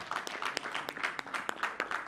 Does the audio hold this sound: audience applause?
yes